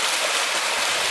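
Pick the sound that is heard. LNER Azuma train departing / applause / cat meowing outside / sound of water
sound of water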